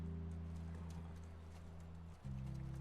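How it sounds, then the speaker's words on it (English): Horse hooves clip-clop steadily during a riding sequence in the video game The Last of Us, faint and continuous beneath a sustained, droning musical score. "the idea is just this little horse riding montages"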